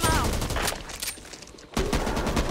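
Rapid gunfire bursts fill a Back 4 Blood co-op zombie shooter match, loud and dense, pausing briefly midway before resuming, with faint player voices in the mix.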